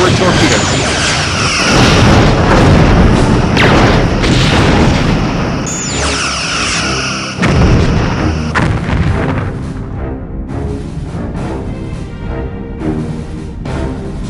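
A starship in a video game fires torpedoes in a series of heavy booming blasts and rumbling explosions, loud and close, layered with mechanical whirs and brief high tones.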